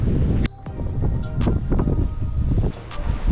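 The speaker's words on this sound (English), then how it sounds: "it's pretty windy, so we'll see" Wind buffets the microphone in heavy gusts on a shore while fishing, roaring and uneven, with sharp clicks and knocks breaking through now and then.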